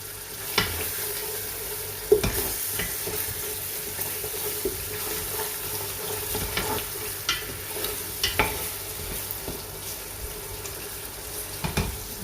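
Masala spices frying in a pot for beef pulao, a soft continuous sizzle broken by scattered scraping knocks of a spoon stirring, close and fairly quiet, with no voices.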